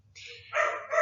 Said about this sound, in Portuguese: Eu peço desculpas pelos latidos no fundo